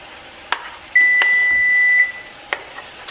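A kitchen oven signals it has finished preheating with one sustained electronic beep, set among sharp clicks and light handling noises in a quiet room.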